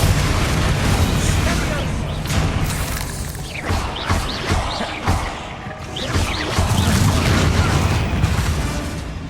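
Spell explosions from combat in the Hogwarts Legacy video game: a dense run of loud booms and bursts with crackling debris, several sharp blasts in the middle, continuous from start to end with a spoken voice mixed in.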